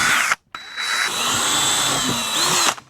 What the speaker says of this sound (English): So we're gonna pre-drill 2 holes.